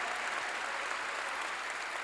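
Steady, dense applause from a church congregation at a sermon, many hands clapping together at an even level throughout.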